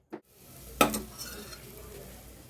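Paste sautéing in oil in a pan: a sharp metallic clank of a utensil, then a low, steady sizzle that carries on quietly to the end, with no talking.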